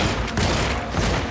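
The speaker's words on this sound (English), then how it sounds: "I'm shooting him" Rapid burst of gunfire from a handgun in the survival horror game Alone in the Dark, several close, loud shots cracking one after another over about a second with no talk.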